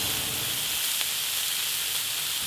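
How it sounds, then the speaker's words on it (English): Bacon sizzling on a Tembo Tusk Skottle griddle during outdoor breakfast cooking, a steady close hiss and crackle with no talking. "I'm gonna drop a couple pieces of bacon in there."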